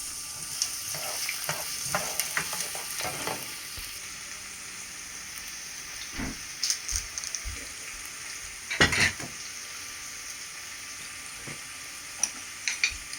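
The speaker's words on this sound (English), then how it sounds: "Okay guys, so we put our onion in the oil" Onion frying in oil in a pan for chana, a steady low sizzle running throughout with scattered stirring clatters and a few louder scrapes near the middle, close and fairly quiet.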